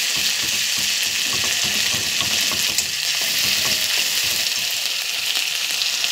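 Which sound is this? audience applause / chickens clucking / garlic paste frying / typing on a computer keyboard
garlic paste frying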